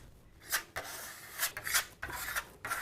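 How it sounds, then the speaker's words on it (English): A trowel held at a high angle scraping excess Venetian plaster off a wall, a run of close, dry rasping strokes in an uneven rhythm with short pauses between sweeps. "then using your trowel at a high angle, scrape off the excess plaster."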